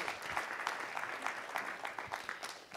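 Steady crowd applause in a Las Vegas city council chamber during a ceremonial session, dense clapping sustained without a break, moderately distant.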